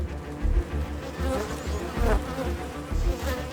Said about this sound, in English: Seizing a bee in its jaws, it starts to feed.